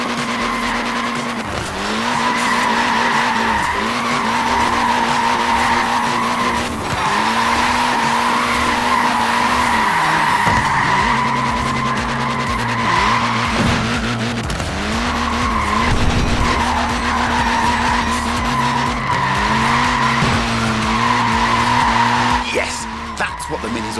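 A short-wheelbase, front-wheel-drive Mini slides in Forza Horizon 4, its tires squealing and skidding in long, loud stretches over a revving engine note, with speech underneath.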